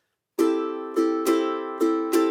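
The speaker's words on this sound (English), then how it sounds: "So here is the swung pattern, or the shuffle pattern. It's going to sound like this." Five strummed chords on a ukulele, each ringing briefly before the next, in an uneven long-short swung shuffle rhythm.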